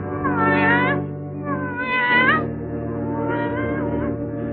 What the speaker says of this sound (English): Yes, it's a cat.